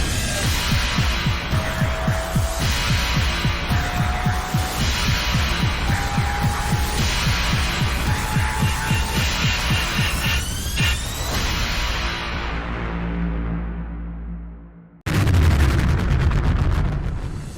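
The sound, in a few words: PUNCH'CAST podcast jingle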